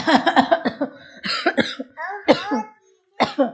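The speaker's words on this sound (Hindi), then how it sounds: "मम्मी को भी खांसी हो गई है।" A series of close, harsh coughs in quick bursts, some throaty and strained, with short pauses between fits.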